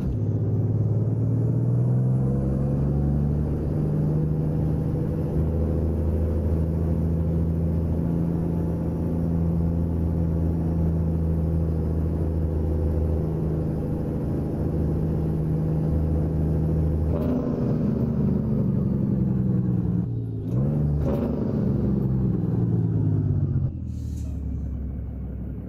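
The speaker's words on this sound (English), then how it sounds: "underneath the hood today, we've got a Cummins 444, that's right, the 444, and an 18-speed transmission" A truck with a Cummins 444 engine and an 18-speed transmission in American Truck Simulator, giving a steady, deep, loud diesel drone for most of the stretch, then a few brief shifts and pressure changes near the end.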